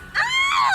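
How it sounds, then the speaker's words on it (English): A woman's high, wavering scream in an animated horror story, two rising-and-falling cries in quick succession, loud and close with no other sound. "I turned around to see who was screaming."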